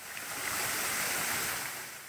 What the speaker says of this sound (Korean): 이곳은 조곡 폭포입니다.